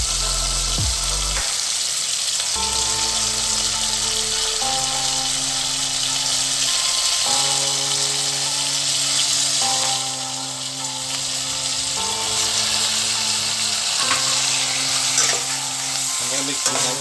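Bite-sized tofu pieces fry in a pan with soybean and chilies, making a steady, close sizzle under a repeating low musical tone.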